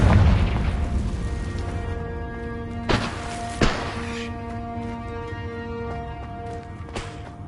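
Confringo fire spell blasts in Hogwarts Legacy, heard as a sustained rumbling impact with two sharp thuds partway through and another small pop near the end, ringing tones lingering underneath.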